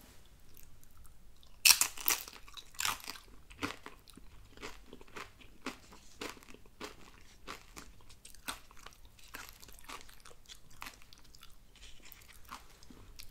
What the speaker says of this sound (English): A very high crunch factor.